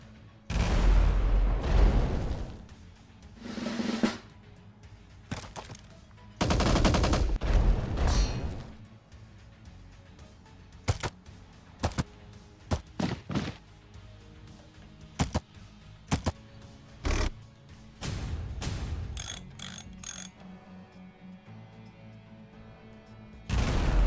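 Artillery in the strategy game Empires Shall Fall fires repeatedly, with loud booming blasts and sharp cracks spread irregularly across the stretch, some heavy and drawn out, others short and distant, with no voices.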